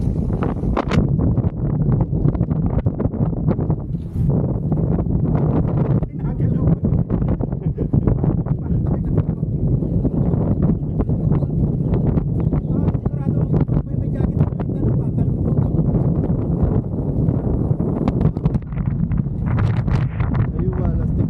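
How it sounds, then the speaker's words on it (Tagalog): Strong wind buffets the microphone continuously, a loud roaring rumble with gusty bursts throughout, no pauses. "Ang lakas ng hangin."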